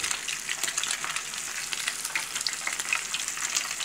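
Small lambari fish fry in hot oil with a dense, steady sizzle and scattered sharp pops, close and continuous, with no voices.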